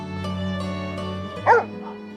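A dog in a visual novel game gives a single short, high yip over a steady musical backdrop.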